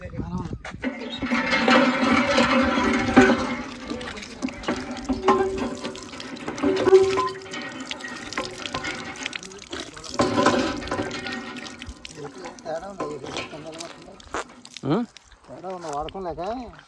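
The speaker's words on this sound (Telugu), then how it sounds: "ఆ గ్రామంలో ఉన్నటువంటి శివాలయం ముందు వేసినటువంటి హ్యాండ్ పంపులు నీళ్ళు అయితే వస్తానండి" Water running from a village hand pump set in front of a Shiva temple in Odisha, splashing in uneven surges close by while people talk over it.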